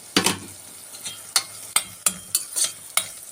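Spices frying with onion and garlic in a pan for spinach with lentils, a low sizzle under sharp, evenly spaced scrapes and taps of a spoon stirring, close and fairly loud.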